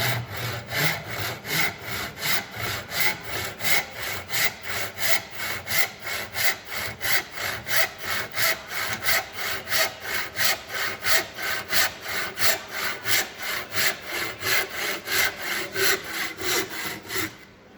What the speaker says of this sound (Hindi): हैंडसा को स्ट्रेट पकड़ना है और धीरे धीरे इसको मूव करना है।